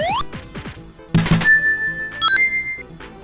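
A bright bell ding rings out as a subscribe reminder, two quick metallic strikes leaving clear sustained tones, preceded by short synthetic swoops and blips, loud and alone with no talking.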